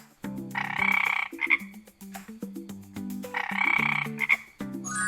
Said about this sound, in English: what sound does a frog make?